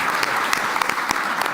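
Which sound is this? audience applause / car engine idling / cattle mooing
audience applause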